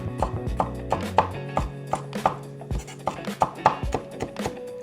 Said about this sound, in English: let's go ahead and cut this piece up